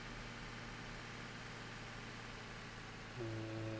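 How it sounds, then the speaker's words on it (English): A small tractor engine idles steadily in the Farming Simulator 2013 video game, a quiet low continuous drone with a faint tonal shift near the end. "It's a cool little tractor, this one."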